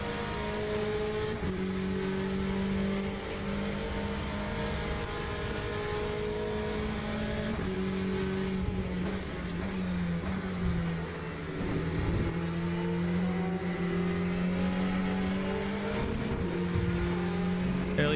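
Porsche GT3/GTE race car engine in Le Mans Ultimate droning loudly and steadily at high revs, with pitch rising and dipping through gear shifts, including an early upshift to fourth, and other cars audible alongside, no talking.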